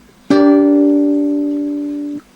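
Third chord of a lesson in an alternate guitar tuning, strummed once as a single sustained chord that rings clearly and alone for about two seconds before being damped.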